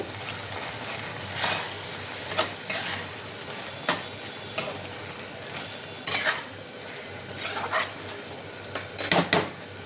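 A spoon works through drumstick curry finished with butter in a pan, bringing irregular scraping clanks against the metal over a low continuous sizzle, close by with brief louder bursts of stirring and no voices.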